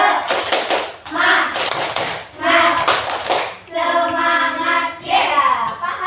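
Rhythmic clapping in a primary school class, mixed with children chanting together in bursts, fairly loud and close in a classroom.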